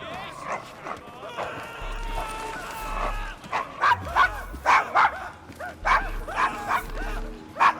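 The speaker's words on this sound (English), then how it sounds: "Is your dog quite all right?" In the rough Devil's Acre streets of Victorian London in Assassin's Creed Syndicate, a dog named Desmond whimpers and yips, then barks in short repeated bursts close by, with voices talking around it.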